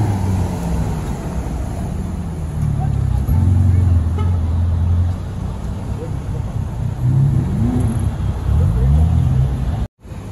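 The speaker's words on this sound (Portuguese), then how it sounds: "aqui vem um V8 biturbo híbrido" A Bentley Continental GT Speed with a V8 biturbo hybrid powertrain drives along São Paulo streets, its low engine rumble rising and falling steadily amid surrounding traffic noise, with voices talking over it.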